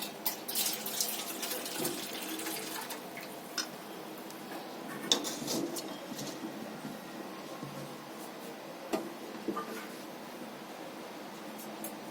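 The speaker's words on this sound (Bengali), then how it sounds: "জলটা গরম হয়ে গেছে আমি ঢেলে নিচ্ছি" Hot water being poured in a home kitchen while making sweet yogurt, a quiet continuous splashing trickle with occasional small clinks, close and faint, no talking.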